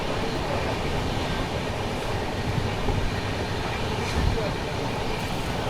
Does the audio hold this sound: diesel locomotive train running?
yes